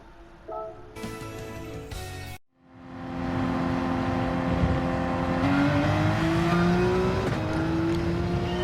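Porsche 911 GT3 engine revving at Spa-Francorchamps in the game Gran Turismo 7: a brief rev, a short pause, then a loud, sustained engine note climbing steadily in pitch as the car accelerates.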